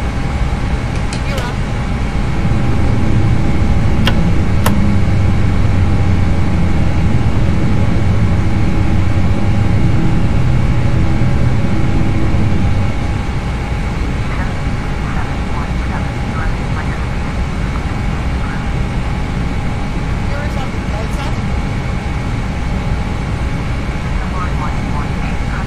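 Airbus airliner engines at climb thrust in Microsoft Flight Simulator X make a steady, loud cabin roar with a low rumble that eases after about thirteen seconds, and occasional faint clicks can be heard.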